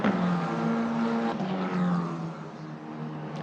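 Italian F4 race cars pass at speed on the Paul Ricard circuit in a dense, continuous engine roar that swells and fades as several single-seaters go by in quick succession.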